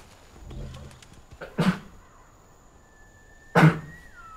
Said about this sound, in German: Ich bin ein wenig erkältet, deswegen werde ich wohl ein bisschen niesen.